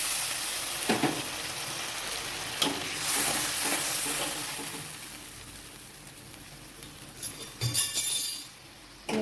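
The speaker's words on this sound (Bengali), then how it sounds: "টমেটো মশলার সাথে ভালো করে মিশিয়ে নেব। এখন দিয়ে দেব জল।" Water poured into a pan of tomato and spice mixture for a Bengali fish peyaji curry, producing a loud hiss and sizzle that settles into bubbling, with occasional stirring clinks of a utensil against the pan.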